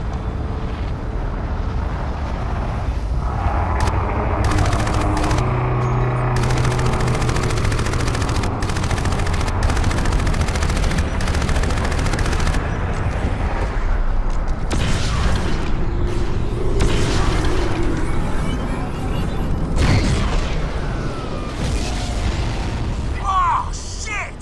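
Gunfire and cannon blasts in the Crysis video game: bursts of rapid automatic fire mixed with heavy booming explosions, dense and loud throughout, with characters shouting over the combat.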